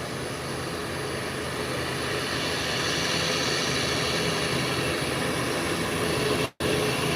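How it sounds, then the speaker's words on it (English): An American Airlines jet airliner taxis off the runway after landing, a steady broadband engine roar holding constant and fairly loud throughout, with a brief dropout near the end. "waiting for the American Airlines that have just landed to taxi off the runway, which it's doing now"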